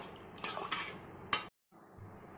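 Chicken curry stirred into a rice cooker for chicken biryani, with a few soft scraping and clinking strokes of a spoon against the pot, then a brief pause and one more light clink.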